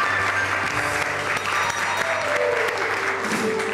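Steady applause from a studio audience on a Pakistani entertainment talk show, continuous clapping filling the space throughout with a faint tonal sound sliding underneath near the end.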